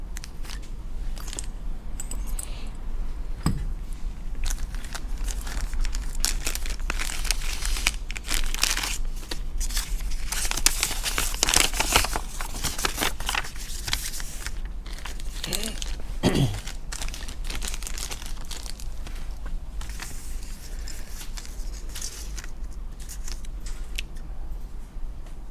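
A small plastic parts baggie holding T3 shifter bushings for an AE86 is opened and handled up close, with irregular crinkling and rustling bursts across a steady background hum.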